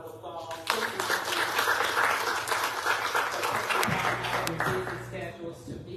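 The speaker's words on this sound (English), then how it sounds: "Let's give them a round of applause." Audience round of applause for municipal candidates at a county candidates forum, a full burst of clapping that starts abruptly and holds steady for several seconds before tapering, with a voice speaking faintly near the end.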